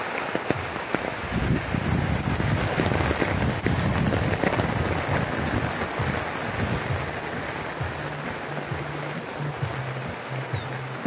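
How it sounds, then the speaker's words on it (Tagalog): Steady rain falling outdoors on a walk home, a continuous close hiss with a low rumble underneath and no voices. "Naulan na naman"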